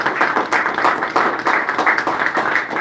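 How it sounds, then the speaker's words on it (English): A crowd applauds steadily, a dense wash of many hands clapping at close range, sustained and fairly loud throughout with no talking. "I think we need a big round of applause."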